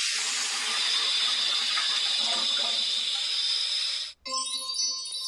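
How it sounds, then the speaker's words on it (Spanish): A toilet flushes with a loud, steady rush of water that cuts off abruptly after about four seconds, then gives way to a short musical tone. "Sí, es una taza de baño, ¿no es cierto?"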